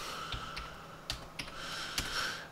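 A few sparse, light keystrokes on a computer keyboard as an IP address is typed in, clicks landing irregularly over steady background hum with no talking.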